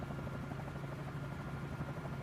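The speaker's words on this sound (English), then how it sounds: "I love this helicopter." Helicopter in Microsoft Flight Simulator 2024 with a steady, continuous rotor and engine drone that stays level and moderately loud throughout, with no talk.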